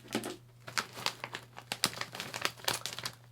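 A Japanese snack bag being cut and handled, with quick crinkling and crackling plastic bursts close by in an uneven series, no talking.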